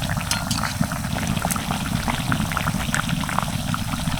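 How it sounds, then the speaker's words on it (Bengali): Battered bread chops deep frying in hot oil, a dense continuous bubbling roar with crackling pops throughout, close and loud, no voices. "ব্রেড চপগুলো এভাবে উল্টে পাল্টে ভালো করে ভেজে নেবো"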